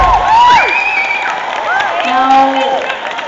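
Concert audience cheering and whooping for a guitarist, with shrill rising shouts and whistles over a bed of applause, loud and close.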